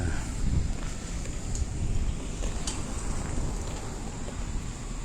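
Steady wind blows across the open reservoir at Rasi Salai Dam in Thailand, a constant broad rumbling rush with low gusty buffeting on the microphone and no voices, lasting throughout.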